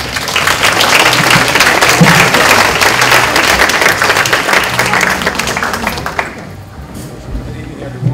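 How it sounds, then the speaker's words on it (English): An audience at an evening youth-leaders reception breaks into loud, sustained applause that fills the room for about six seconds, then thins out to scattered claps. "Let's please give a warm applause to Mr. Joe Ron Johnson."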